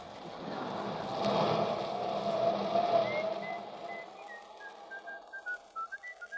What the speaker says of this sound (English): Cut out that whistling.